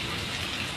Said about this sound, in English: strong rain fell the entire time